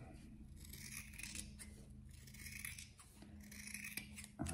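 Scissors cut through a very thick, heavy fabric in a quiet room, giving steady close crunching snips and rasping blade strokes, ending in a sharper clack.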